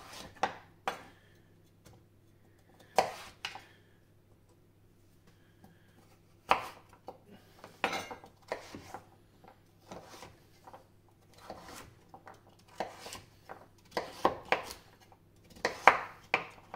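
A knife cuts through butternut squash on a cutting board in a quiet kitchen, making sharp, irregular chopping thuds that come in scattered bursts with pauses between them.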